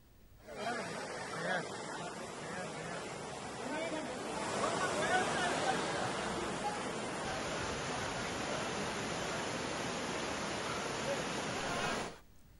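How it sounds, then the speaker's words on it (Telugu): A dense, steady roar of heavy city rain pours without a break, swelling slightly midway, then cuts off abruptly near the end. "నగరంలో చాలా చోట్ల ఓ మోస్తరు నుంచి భారీ వర్షం పడింది"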